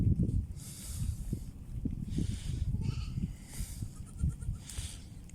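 Goats, including a slow-walking pregnant one, bleat near a shore at feeding time, several wavering calls rising over shuffling and rustling close by.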